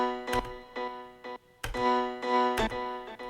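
Synth notes from a Serum patch with ping-pong delay, for a remake: short bright harmonic chords play in a rhythmic pattern, each followed by softer echoing repeats, close and clear with no talking.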